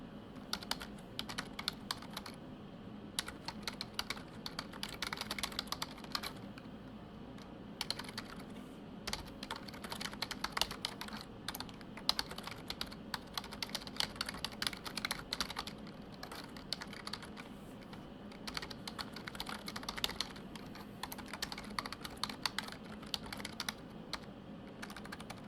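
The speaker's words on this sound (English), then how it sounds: "And I'll just type some simple instructions." Typing on a computer keyboard, a steady run of close, light key clicks with short pauses, no talk.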